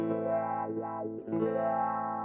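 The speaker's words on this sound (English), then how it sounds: "the way that the wah is increasing when I move my foot is different as well" Distorted electric guitar held through a wah pedal on a Line 6 HX Effects unit, the tone sweeping up and down in slow vowel-like swells as the pedal rocks, played alone.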